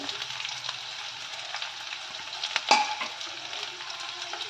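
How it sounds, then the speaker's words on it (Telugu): Chopped onion and dried red chillies frying in a pan for coriander rice, giving a continuous bright sizzle with a sharper stirring scrape near the middle, heard up close with no talking. "ఉల్లిపాయను కూడా వేసి మనం బాగా ఫ్రై చేసుకోవాలి"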